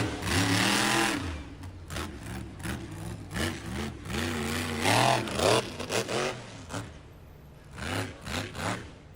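The Scarlet Bandit monster truck's engine revs in repeated loud surges at an arena event, each rising and falling roar close and prominent, with a crowd murmur underneath.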